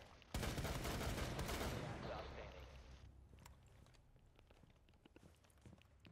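Loud burst of gunfire in the Rainbow Six Siege video game, a dense rapid volley lasting about two seconds and then fading into quieter scattered clicks and footsteps, with a voice speaking faintly.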